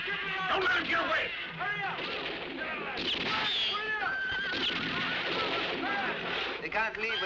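Horses in a 1967 spaghetti western scene whinny and neigh loudly with repeated high calls, mixed with hoof clatter and a burst of gunfire, while voices shout over the commotion.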